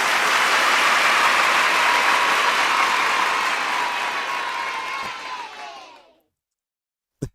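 A round of applause plays as a dense crowd clap on a music feedback stream, steady for several seconds, then fading out with a falling tonal sweep before cutting to silence and a short click.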